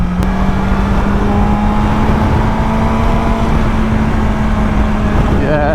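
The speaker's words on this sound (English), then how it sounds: "It just sounds like it's revving really high all the time." A BMW S1000XR motorcycle engine drones at high, steady revs while riding on the road, with a constant whine and strong wind rush, loud and continuous.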